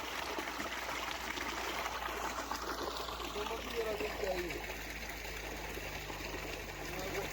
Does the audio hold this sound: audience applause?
no